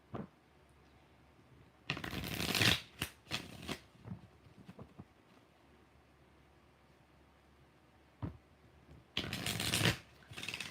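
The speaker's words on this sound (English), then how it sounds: "Three more shuffles for Dan." Two bursts of tarot card shuffling, each a quick riffling flutter lasting about a second, separated by quiet stretches with a few soft taps and rustles.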